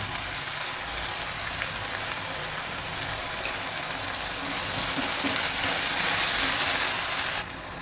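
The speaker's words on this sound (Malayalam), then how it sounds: "സവാള നല്ലതുപോലെ മൂത്ത് വെക്കണം" Sliced onions sautéing with salt in a pan, a constant close sizzle of frying that swells a little louder toward the end, then cuts off abruptly.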